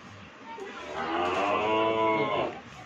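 A cow gives one long, drawn-out moo that swells and fades over about two seconds, close and fairly loud, with no talk alongside.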